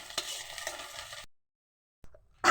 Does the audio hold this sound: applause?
no